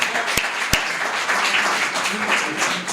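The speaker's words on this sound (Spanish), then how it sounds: "Un aplauso para Leo" An audience applauds after a conference talk on active investment management driven by artificial intelligence, a dense, fairly loud wash of clapping with two sharp knocks near the start.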